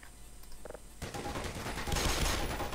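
Rapid bursts of gunfire shooting at the player in the video game Black Mesa, growing louder and denser over the last two seconds.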